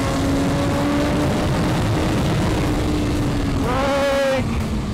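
A motorcycle engine revs as the throttle is rolled on during a track session, a steady rising drone that climbs sharply near the end under constant loud wind rush.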